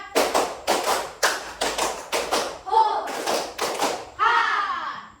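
A classroom of students claps an ice-breaking rhythm in loud, sharp bursts grouped in counted sets, with children's voices calling out between some of the clap groups.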